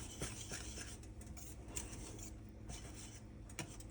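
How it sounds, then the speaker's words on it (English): Cajun shrimp mac and cheese stirred in a pot, with a spoon scraping and clinking against the metal in a steady, continuous rhythm, close and moderately loud, with no talk. "I'm just going to keep giving it a stir, because what you don't want it to do is stick."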